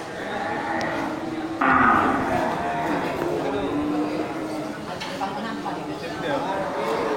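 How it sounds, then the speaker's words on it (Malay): Around a dozen large bulls mooing at a cattle sale, deep loud calls rising and overlapping throughout with a busy crowd murmur and people talking nearby. "Yaitu sekitar 12 ekor ya sapi jantan super ya."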